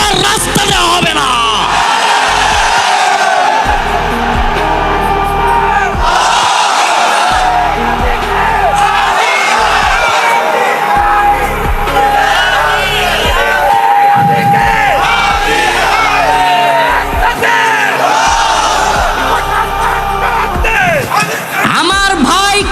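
A large crowd at a political protest in Bangladesh chanting slogans, loud and close throughout, with one leading voice shouting and many voices answering in rhythmic waves.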